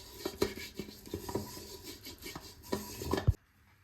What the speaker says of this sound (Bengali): ব্রাশ দিয়ে পুরো হাঁড়িটা এখন মাখিয়ে নেব।